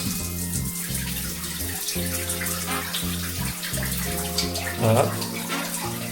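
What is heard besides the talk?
hot water running from a tap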